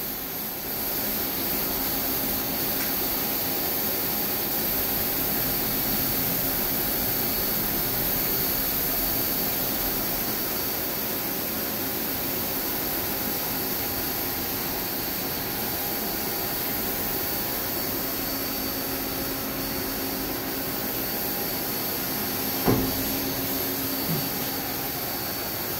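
Akira-Seiki Performa V4 CNC vertical machining center with its spindle running at 1,000 RPM while being jogged, giving a steady, loud, even mechanical whir and hiss with a faint tonal whine and one brief click near the end.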